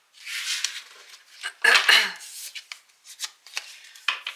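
Tarot cards are shuffled and drawn in quick papery riffles and slides, close and crisp, with bursts of brushing and flicking that come in uneven bunches.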